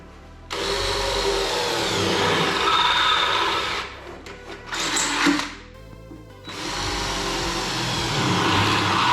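Drill boring through thin sheet metal to mount a roll bar in a Mazda Miata, a steady close whine running for several seconds, dropping out briefly mid-way before starting up again.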